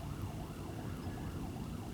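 Emergency vehicle sirens wail far off, a faint, steady rising and falling tone under low background rumble, with no one talking.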